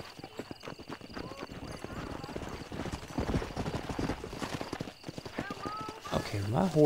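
Rapid rhythmic horse hoofbeats clatter steadily at a gallop in Red Dead Redemption, with a brief whinny near the end and a voice talking over it.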